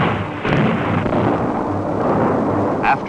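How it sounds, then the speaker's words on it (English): A dynamite blast on the canyon rock walls during Hoover Dam construction gives a deep rumbling boom that rolls on continuously, with a sharper crack near the start and another near the end. "Suspended on ropes, they drilled holes in the rock and loaded them with dynamite."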